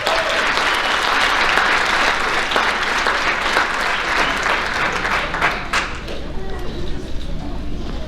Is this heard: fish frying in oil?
no